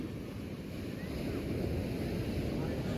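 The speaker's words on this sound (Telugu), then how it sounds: "చూడండి ఎంత పెద్ద అలలు వస్తున్నాయో కదా" Continuous low roar of big ocean waves at Anjuna beach in Goa, with wind buffeting the microphone and the surf swelling slightly louder toward the end.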